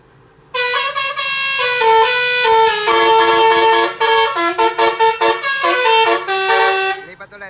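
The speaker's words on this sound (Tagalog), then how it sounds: "selection nung musical horn natin" A loud musical car horn plays a brassy tune of sustained tones, then switches to quick, choppy staccato notes in a rhythmic pattern, close and dominant before stopping abruptly.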